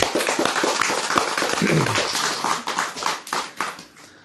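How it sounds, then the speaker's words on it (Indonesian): An audience applauds in a hall, a dense burst of many hands clapping that swells and then thins out over a few seconds, heard close and fairly loud. "Tepuk tangan dulu"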